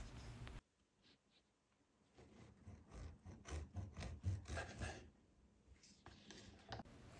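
A knife saws through homemade dry sausage on a board, making quiet, repeated rubbing and scraping strokes close to the mic, with short pauses between them.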